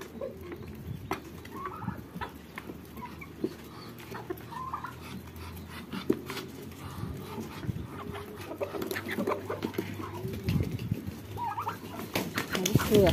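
Local chickens, Muscovy ducks and white and black turkeys on a rooftop make steady clucking and scattered calls, with occasional gobbles close by and someone talking over the birds.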